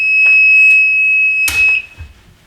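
A heat press timer alarm sounds a loud, steady high-pitched electronic tone for about two seconds, with a few clunks and knocks from handling the press.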